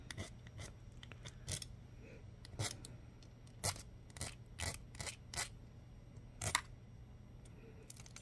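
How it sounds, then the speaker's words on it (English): Metal file rasping across the freshly cut, sharp-edged metal pieces of a Cleopatra-style band circlet, giving a string of short, scattered scraping strokes at close range over a low steady hum, with no talk. "the next thing we want to do is file these things down"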